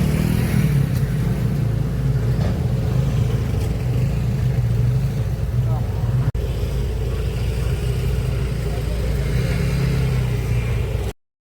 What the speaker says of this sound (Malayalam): ഇതാ ജങ്കാറിൽ നിന്ന് വണ്ടി ഇറക്കുന്നത് നമുക്കൊന്ന് കണ്ടാലോ